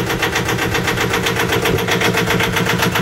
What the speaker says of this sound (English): there's the engine purring away at a nice